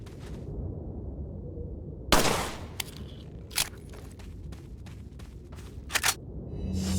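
Gunshots ring out in the video game Resident Evil 4 in its Ada DLC, a handful of sharp isolated cracks spaced a second or more apart over a low rumbling game ambience.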